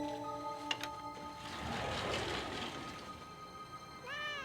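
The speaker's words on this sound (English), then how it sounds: "There's a cat out here, John." A cat meows outdoors, a short, rising cry near the end after a wash of faint background noise and a few thin tonal sounds, with no talk.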